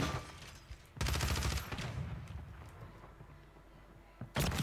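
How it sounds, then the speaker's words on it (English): Gunfire in a multiplayer shooter video game, with a sharp burst of shots around the one-second mark and another at the end, loud and close over a busy game soundscape. "He just sniped the shit out of me."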